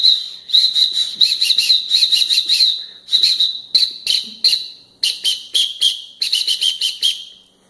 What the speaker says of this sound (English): I've got a Fox 40 on here, one of the loudest whistles out there